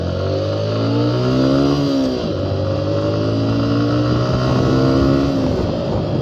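Suzuki Gixxer SF motorcycle accelerating hard through its gears, engine pitch climbing, dropping briefly at a shift around two seconds, then climbing again, loud and close.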